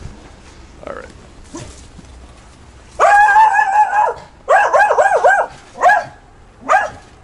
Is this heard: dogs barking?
yes